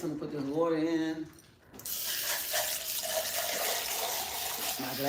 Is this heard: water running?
yes